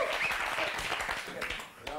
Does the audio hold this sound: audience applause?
yes